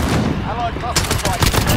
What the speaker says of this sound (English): we're taking some fire